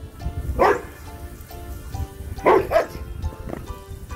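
A few dog barks ring out in two short bursts, one early and one midway, over a steady low background hum.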